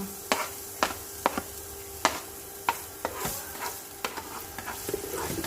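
Onions sautéing in a pan for fried kuey teow, with a steady soft sizzle broken by sharp spatula scrapes and clinks at an uneven rhythm, close and fairly quiet.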